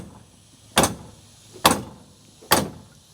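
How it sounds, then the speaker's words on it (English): The door of a Kandi Cowboy e10k electric UTV is slammed hard three times at a steady pace, each a sharp, loud bang against a quiet background. "You can see how hard I'm slamming that."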